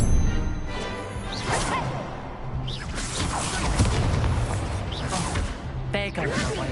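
Fire spells cast in the Hogwarts Legacy video game: repeated whooshing bursts and swishes over a busy game soundscape, with spoken voices throughout.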